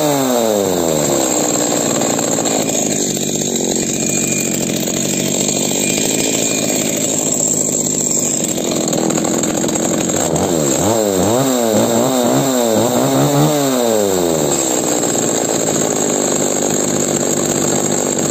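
A Zenoah G300 chainsaw, freshly restored with its carburettor just adjusted, runs steadily and loudly from start to finish, its two-stroke engine revving up and down in repeated bursts around the middle.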